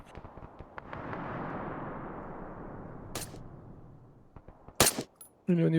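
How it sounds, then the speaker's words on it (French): Explosion from a grenade in the military shooter game ArmA, a broad rumbling blast that decays over a couple of seconds, followed by several sharp gunshots and cracks, with a voice briefly speaking near the end. "Une grenade."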